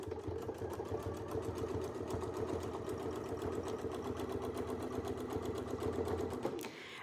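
A sewing machine stitches steadily across a quilt while following a template to form a channel, its rapid needle rhythm running continuous and close for about six and a half seconds before stopping abruptly.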